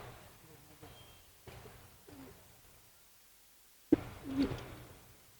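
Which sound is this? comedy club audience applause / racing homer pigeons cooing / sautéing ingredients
racing homer pigeons cooing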